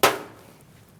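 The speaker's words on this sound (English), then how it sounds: "I'm going to give it a whack with a hammer, and hopefully it'll come out" A single sharp metallic whack of a hammer striking the inner tie rod on a 2008–2014 Mercedes-Benz C300, close and loud, followed by a quick fading ring.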